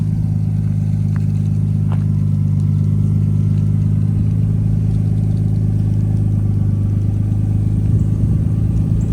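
A 1989–1994 Nissan Skyline engine with a full Tomei exhaust warms up at a steady idle, a loud, deep, continuous burble held close without talk and barely changing in pitch.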